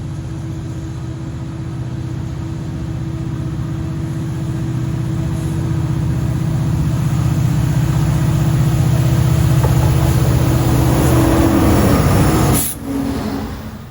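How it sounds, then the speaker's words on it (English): A freight train pulled by a single locomotive rumbles past close by, a steady heavy engine drone and rolling rail noise building in loudness, then a sharp high squeal near the end as it cuts off, no voices. "when's the last time that you saw one engine pulling a train?"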